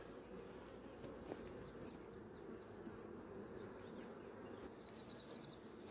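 A honeybee colony in an open hive, a dense steady buzz of many bees up close, continuous and even throughout.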